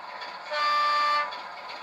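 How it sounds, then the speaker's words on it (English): A model train locomotive sounds a single steady horn blast of about three-quarters of a second, clear and fairly close over a quiet background hum. "Give it some horn."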